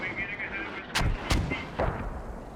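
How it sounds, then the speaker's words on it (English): Mortar rounds in a tactical war game strike a roof: two loud booming impacts close together, then a weaker third blast, over a steady rumbling background. "Oh, those mortars though, just a tiny little bit off target."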